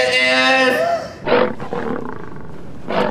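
A lion's roar sound effect at a children's library reading event, loud and drawn out with rough rumbling, followed by shorter roaring bursts and a final surge at the end, with no talk over it.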